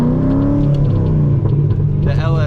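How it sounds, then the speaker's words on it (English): A cammed LS3 V8 in a Corvette close to 20 years old, rumbling with a loud lumpy idle and pitch shifts, plus a few crackly pops, while someone talks over it. "the LS3 cams. I mean, you hear it, it pops, it goes"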